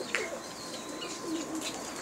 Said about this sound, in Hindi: इस साइड दे जनाब इन्होंने तोते रखे हुए हैं